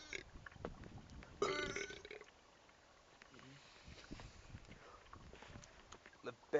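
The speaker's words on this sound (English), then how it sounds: "I can't say it without burping" Someone lets out a loud, gurgling burp, then another quieter one, close to the mic amid soft rustling and a low background.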